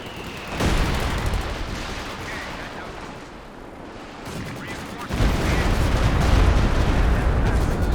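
A walking Stuka rocket barrage in Company of Heroes 2 thunders down as a dense, roaring stretch of explosive fire, easing off briefly midway and then returning louder and heavier, loud and close.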